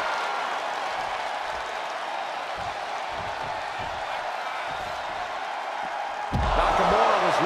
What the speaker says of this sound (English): Cody Rhodes rallying up the crowd like only a Rhodes can